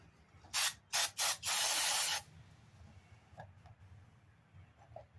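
Sharp hissing bursts from an aerosol cleaner can spraying carburetor parts of a Cub Cadet push mower: three short sprays, then one longer blast, followed by quiet clicks and handling noises.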